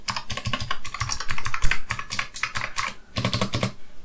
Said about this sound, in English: The keys are really, really nice to press. It's got a nice click.